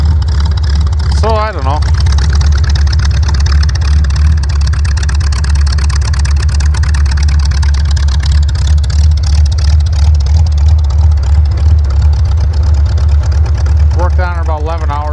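A car's engine runs and idles steadily throughout, a low continuous rumble under brief talk at the start and end; the vehicle starts and drives but will not shift into drive.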